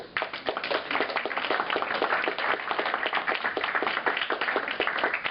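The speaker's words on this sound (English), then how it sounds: "please give applause to our..." Steady audience applause at the close of a question-and-answer event on emigrating landscapes, dense continuous clapping from a crowd filling the whole clip without pause.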